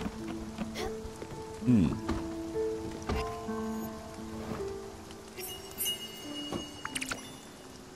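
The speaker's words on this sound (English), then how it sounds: "Oh, this rain. Will it ever stop?" Steady rain falls in the Spiritfarer video game, a soft continuous patter under game music tones, with a brief murmured voice in the middle.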